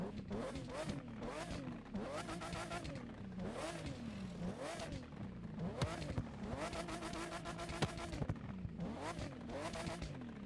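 Porsche 917K race car in The Crew 2 video game, its engine revving hard through repeated rising sweeps and gear changes, loud and continuous with sharp throttle blips.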